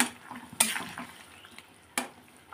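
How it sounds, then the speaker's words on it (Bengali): Koi fish cook in a thin curry in a pan, a soft sizzle with a few sharp utensil knocks and stirring scrapes, close and fairly quiet. "কই মাছগুলো ছেড়ে দেবো এখন এক এক করে"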